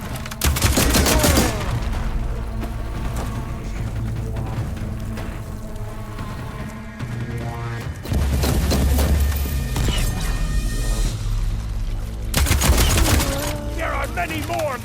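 Rapid gunfire bursts from the video game Horizon Forbidden West, dense and loud with booming impacts, running continuously with brief lulls under the game's layered sound effects and music.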